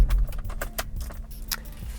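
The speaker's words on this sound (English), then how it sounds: "Now I'm going to turn the ignition key off," An ignition key is turned off in a car during a remote start and alarm installation, with a few close metallic key jingles and sharp clicks over a low background hum.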